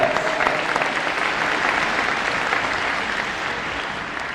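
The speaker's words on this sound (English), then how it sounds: "give yourself a round of applause" Audience applause fills a grand opening celebration at Rock Ridge Academy, a steady wash of clapping from a crowd that holds for several seconds and slowly thins toward the end.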